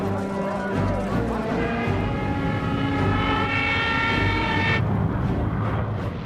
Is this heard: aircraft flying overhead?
yes